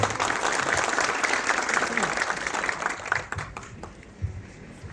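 Audience applause at the opening of a Baldent dental clinic branch in Çan, a steady dense roar of clapping that thins toward the end, with some voices mixed in.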